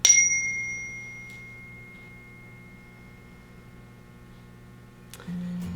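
A single chime rings out sharply at the start of a guided breathing exercise, its clear tone lingering and slowly fading over several seconds before a low hum takes over near the end.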